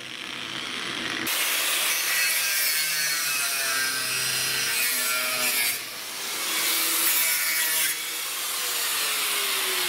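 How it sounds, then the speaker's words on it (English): A tool grinding metal inside a tank during fabrication work produces a loud, continuous, harsh grinding rasp that swells and dips, close by and with no talk over it. "if Darren can see you now, grinding right in his tank, he'd only love you"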